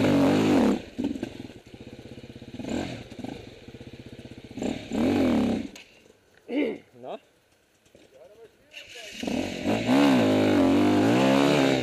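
A vehicle engine revs hard as the throttle opens during a tight, centimetre-by-centimetre manoeuvre, loud roaring bursts that rise and fall, dropping to a quieter idle mid-way before surging again, with voices talking over it.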